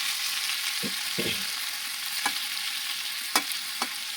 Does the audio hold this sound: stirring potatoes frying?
yes